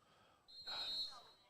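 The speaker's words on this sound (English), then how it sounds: "And the whistles restart play." Referee whistle at a high school lacrosse game, one steady shrill blast lasting about half a second, heard over crowd and commentary noise in a gym-like or field setting.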